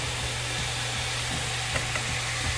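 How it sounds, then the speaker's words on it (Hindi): Cooked rice tipped into a sizzling spice mixture in a pan, a constant loud frying hiss with a low steady hum beneath and a few soft stirring knocks. "तो अब हम इसका राइस डाल देते हैं"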